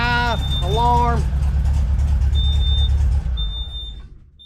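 The engine of a 1972 Volkswagen Beetle Domus pickup truck runs at a steady idle under a loud alarm-like tone and a voice, close and continuous, cutting out near the end.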